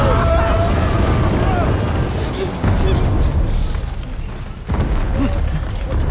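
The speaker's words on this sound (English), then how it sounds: "There's a bomb attack on a bunker, and the bunker collapses." Bombs strike a bunker in a World War I film soundtrack, a loud continuous rumble of blasts and debris with deep booming bursts near the start and around the fourth and fifth seconds as the structure collapses.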